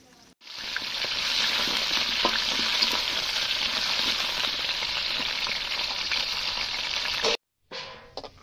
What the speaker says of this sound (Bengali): আলুটা ভাজাভাজি চলছে